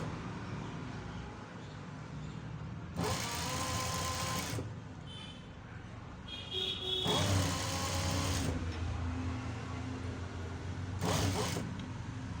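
A sewing machine stitches the folded edge of a boat neck kurti in three bursts of rapid whirring, each a few seconds long with quiet gaps between, close and without talk.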